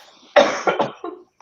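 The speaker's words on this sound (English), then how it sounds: "the more I talk or laugh, the worse the cough gets" A single harsh cough bursts out close and loud, followed by a few shorter, fading coughs in a quiet room, with no talking over it.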